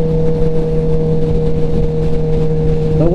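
A 2021 Kawasaki ZX-10R motorcycle, rated at roughly 170 horsepower, cruises on a highway. Its engine holds a loud, steady tonal drone under wind rush, then the pitch rises briefly near the end as the throttle opens.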